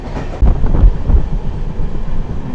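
The Tirumala Express runs on, heard from inside a sleeper coach as a loud, steady rumble with rhythmic wheel thumps and rattling, no voices.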